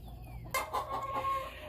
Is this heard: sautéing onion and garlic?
no